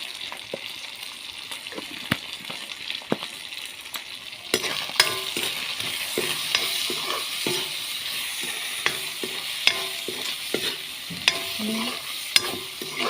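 Dried fish frying with pumpkin in a pan, a steady close sizzle throughout with frequent clinks and scrapes of a spoon stirring, growing busier and louder in the second half.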